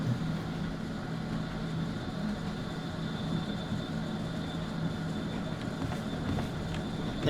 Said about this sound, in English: the train is rapidly speeding up